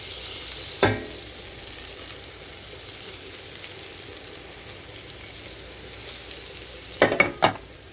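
Four ounces of butter sizzles steadily as it melts in a hot pan, a constant close frying hiss with a lone utensil knock early on and a quick cluster of clatters near the end, no voices.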